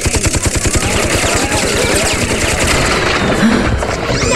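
Rapid, loud machine-gun fire from Persona Q: Shadow of the Labyrinth, a dense continuous burst of shots close up that lasts the whole stretch with no talking.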